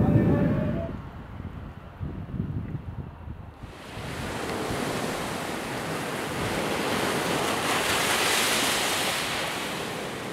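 Surf rolls onto the sandy beach at Empúries on the Catalan coast while wind buffets the microphone, a loud, steady roar of breaking waves and gusts that builds after a brief quieter start.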